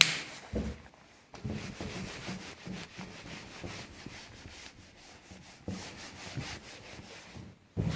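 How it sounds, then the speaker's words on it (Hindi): Steady rubbing strokes of an eraser or cloth across a classroom board, a continuous scrubbing texture broken by brief pauses, close and moderately loud, with no voices. "तो इसके बाद मैं इसको रब करता हूँ"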